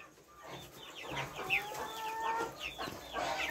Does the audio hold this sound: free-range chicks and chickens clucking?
yes